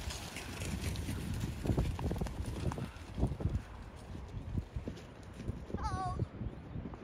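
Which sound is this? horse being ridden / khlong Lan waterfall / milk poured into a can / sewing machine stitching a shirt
horse being ridden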